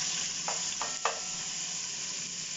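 Chopped onions sizzle in hot olive oil on a high flame for a dhaba-style spicy mash dal, with a steady soft frying hiss and a few brief stirring scrapes, quiet and close with no talking.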